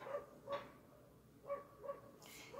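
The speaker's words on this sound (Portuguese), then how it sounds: "E esse cachorro não para de latir" A dog barks repeatedly in the background, several separate barks and yips spaced about a second apart, moderately distant and fairly faint, with no talking over them.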